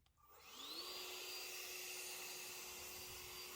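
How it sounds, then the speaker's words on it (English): A Works leaf blower is used to blow water off a car. The motor spins up in the first second, rising in pitch to a loud, steady whine and airy rush that holds to the end, with no speech. "This is the Works leaf blower"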